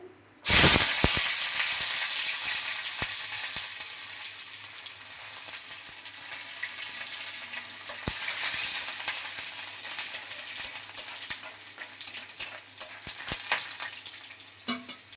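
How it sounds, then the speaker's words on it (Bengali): Dry red chillies and garlic hit hot oil with a sudden loud burst of sizzling that settles into a steady, crackling hiss with scattered pops. "তেল গরম হয়ে গেছে দিয়ে দিব শুকনা লঙ্কা দিয়ে দেব রসুন"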